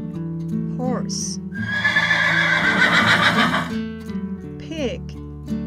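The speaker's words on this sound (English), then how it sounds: "Horse." A horse gives a loud, close neigh that rises and then trails off into a shaky whinny, with music playing underneath.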